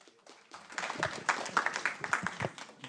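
An audience at a Jeju forum session on foreign and security policy claps in a brief burst of scattered, uneven applause, starting thin and building to a moderate patter before trailing off.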